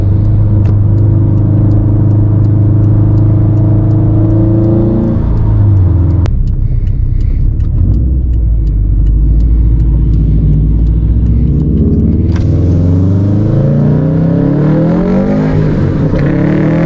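Turbocharged Subaru STI running E85 fuel, making around 400 wheel horsepower, accelerates hard through the gears with rising engine pitch, a sharp break at each shift and a loud, continuous rumble heard from inside the car.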